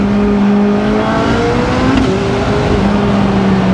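McLaren Senna supercar on the Goodwood Festival of Speed hill climb, its engine roaring loud and close under hard acceleration, with rising and falling tones as gears shift, steady and continuous throughout.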